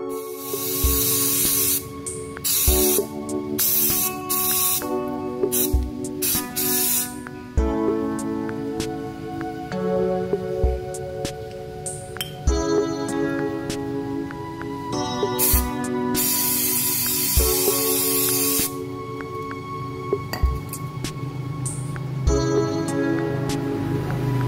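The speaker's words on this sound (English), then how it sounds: "And then I use 3M high power brake cleaner to remove dirt." 3M high power brake cleaner sprayed onto the rear disc brake of a Suzuki GSX S150 motorcycle in repeated hissing bursts of varying length, close and loud, with clinks and handling noises between sprays.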